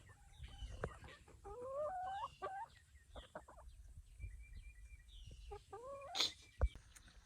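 Backyard chickens clucking and calling near a coop, a run of short chattering clucks with a sharper squawk near the end, over faint outdoor background noise.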